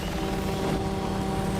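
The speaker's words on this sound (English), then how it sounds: "here's our helicopter friend back" A helicopter in the video game Resident Evil 6 gives off a loud, steady rotor and engine roar. It is dense and continuous throughout, with no talk over it.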